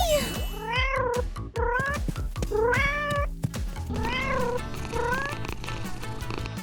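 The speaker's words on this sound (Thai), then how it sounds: "นี่คือแมวของฉันเอง" Cartoon cat meowing repeatedly, several drawn-out rising and falling meows over a busy music and effects bed, loud and close.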